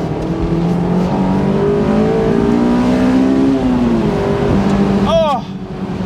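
A car engine revs hard past 6000 rpm, a loud, sustained, close roar that climbs and holds steady before easing off near the end.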